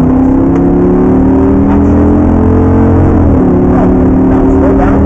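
Audi R8 race car engine pulling hard around a racing track, a loud, continuous in-cabin drone with rising tones that briefly dip near a gear change before climbing again.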